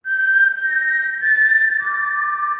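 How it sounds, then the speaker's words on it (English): A clear, loud Mockingjay whistle is played as a sound effect: a steady four-note tune that holds level tones and then drops to a lower final note, alone with no voices. "The little Mockingjay whistle that they do."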